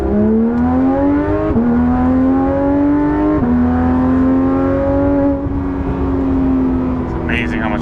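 Inside a Porsche GT3 RS with an AWE exhaust while driving: the engine revs up through gears in rising sweeps, each shift dropping the pitch before climbing again, loud and steady throughout.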